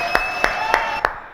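A small studio audience claps for a guest named Olé on a French radio show, five distinct sharp claps spaced evenly over a brief moment, close and fairly loud.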